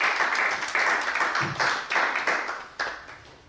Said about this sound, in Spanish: Denle una ofrenda de palmas al Señor.